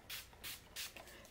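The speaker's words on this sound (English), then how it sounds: "I'm actually going to take my little spray bottle and just mist" A small spray bottle mists absorbent art paper in three or four quick hissing bursts, evenly spaced and close, in a quiet room.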